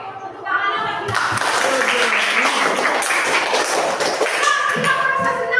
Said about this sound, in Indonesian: tepuk tangannya Mbak Dilan